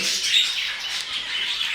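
Pet Pekin robins (Hint bülbülü) in an aviary give a continuous bright chatter of high calls and squawks, close and fairly loud, with no talking.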